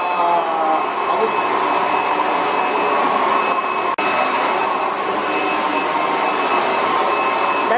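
A Roidmi F8 cordless vacuum cleaner runs at a high power setting, a loud, steady, close whine and whoosh that continues unbroken apart from a tiny click midway.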